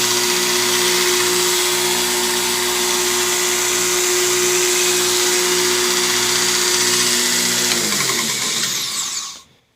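A new belt blade grinder from Origin Blade Maker runs loudly and steadily at high speed, with a sustained whirring motor and belt noise that holds for about eight seconds before winding down and stopping.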